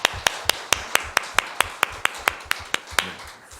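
A church congregation claps together in steady unison, sharp claps evenly spaced about four per second, with no voices over them.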